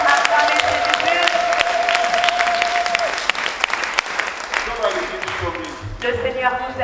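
A church congregation applauds and cheers for Jesus, a dense steady wave of clapping and voices carrying on throughout, with sung or sustained tones and speech mixed in.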